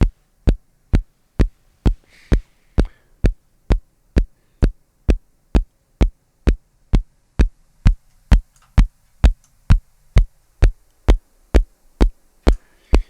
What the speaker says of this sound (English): say we wanted to take this kick drum and we wanted to notch out a part of it